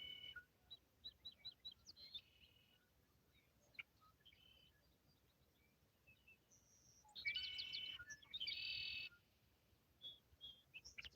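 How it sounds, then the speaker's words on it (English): Birds chirp outdoors on an early morning at sunrise, with scattered short tweets and calls near and far. A louder trilling burst comes midway over a quiet background, and no one talks. "I don't know if you hear all the birds out here this morning"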